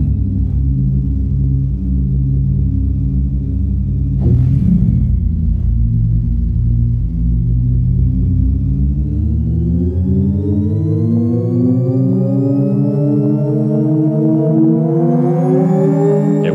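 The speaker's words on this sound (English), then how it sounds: "when you open the throttle, it makes an additional sound that complements the motor" Custom-designed sound of a 3D-printed classic-style electric motorcycle revving, a loud steady synthetic hum of layered tones that dips briefly and then climbs in pitch as the throttle opens, with no voices.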